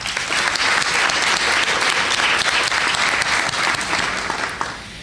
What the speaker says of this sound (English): Let's applaud the efforts of these well-deserving students one more time.